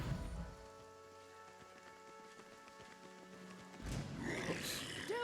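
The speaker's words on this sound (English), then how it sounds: "Is it gonna start raining badly?" Rain in the Pathfinder: Kingmaker video game hisses as a steady, soft patter with a low rumble, rising to a louder burst near the end, heard alone without talking.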